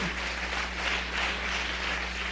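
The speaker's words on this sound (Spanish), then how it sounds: "Dele palmas al Señor de la gloria." A church congregation applauding together during a Spanish-language sermon, a steady wash of clapping that carries evenly through the whole stretch at moderate volume, with no voice over it.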